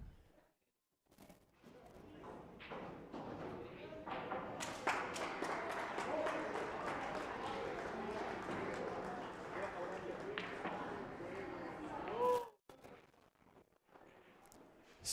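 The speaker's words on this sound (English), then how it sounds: "3 guys clapping in Julio's corner" A handful of people in a pool hall clap after a tie-breaker pool match, a sparse, quiet patter of hand claps lasting several seconds, with commentary around it.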